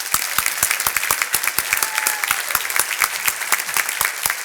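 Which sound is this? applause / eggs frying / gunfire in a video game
applause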